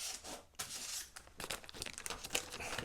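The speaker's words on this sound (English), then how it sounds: "Put a bit of baking parchment, non-stick baking parchment on the top" A sheet of non-stick baking parchment is handled and laid over a filled Christmas pudding basin, crinkling and rustling unevenly and close by, with short crisp crackles.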